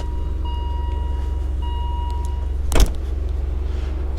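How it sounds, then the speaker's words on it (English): The hood of a 1987 BMW M6 comes down with a single sharp, solid thump as it is drawn shut and latched, set against a steady low engine hum. "you push it back in, and it kind of sucks the hood back down"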